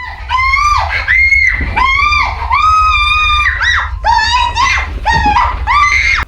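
A woman screams loudly and at length, a series of shrill, drawn-out cries that follow one another almost without pause.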